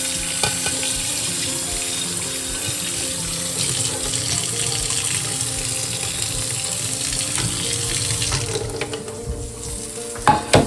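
A plate rinsed under a running kitchen tap, water pouring in a steady, loud splashing stream that continues throughout with small clatters and a brief drop near the end.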